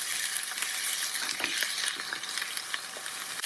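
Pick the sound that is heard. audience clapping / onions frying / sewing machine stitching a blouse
onions frying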